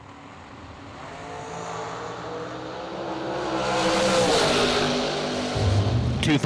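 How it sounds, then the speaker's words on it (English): Drag race cars launch side by side down a racetrack at an organized drag racing event, engine roar building steadily over several seconds to a loud sustained peak, with background crowd and announcer noise underneath. "both drivers going down the racetrack"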